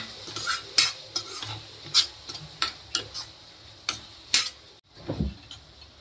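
A spoon stirs soybean gravy in a pan, scraping and tapping the metal in a series of sharp, irregular clinks over a low, faint simmer, close by and without talk.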